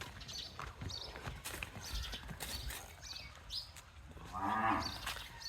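A Sahiwal cow lets out a low moo near the end, preceded by a busy farm background of livestock shuffling and faint scattered sounds, moderately close.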